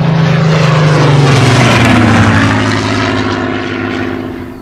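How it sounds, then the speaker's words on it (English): A Supermarine Spitfire with its Rolls-Royce Merlin engine drones loud and close, a steady propeller roar with a slowly falling pitch that eases slightly toward the end, with no talk over it. "I've flown a Spitfire."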